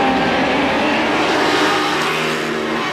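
Superbikes accelerating hard off the line at the start of an American Superbike Championship season-finale race at Barber, a loud, dense, continuous engine roar that holds steady for the whole stretch.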